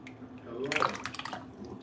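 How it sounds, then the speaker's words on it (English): Liquid drips and trickles during crab boil prep, a brief close burst of watery splashing with a few droplets that fade out quickly. "This shit dripping."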